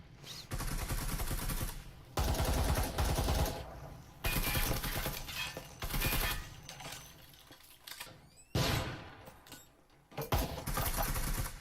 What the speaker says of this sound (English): And a nade comes in.